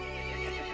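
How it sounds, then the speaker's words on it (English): A horse neighs loudly in the Resident Evil Village video game, a sharp, strident whinny that fills a short moment with no talk over it. "The horse grew angry and summoned the other monsters."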